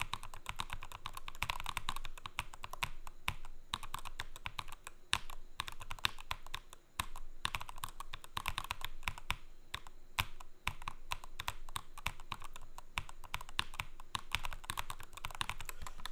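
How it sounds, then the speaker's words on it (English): Rapid, steady typing on a Melgeek Cyber 01 rapid-trigger keyboard with see-through, slightly hollow-sounding keycaps, a dense clatter of close key presses running throughout without pause or talk. "The keycaps sound a bit hollow."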